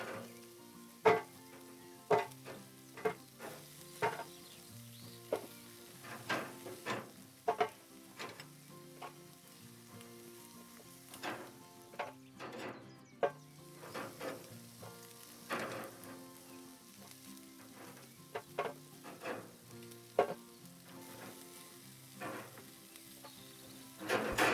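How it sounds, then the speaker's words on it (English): Chicken wings frying in hot oil, a steady close sizzle and bubble with scattered sharp pops and crackles throughout, no talking. "We're gonna fry them for a couple of minutes"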